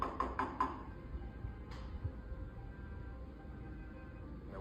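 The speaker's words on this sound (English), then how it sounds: "And then I knock." Knocking on a door: three quick, sharp raps close by, then a single softer knock a moment later, followed by a quiet room tone.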